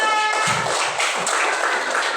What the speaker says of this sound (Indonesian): tepuk tangan dulu untuk kelompok Anda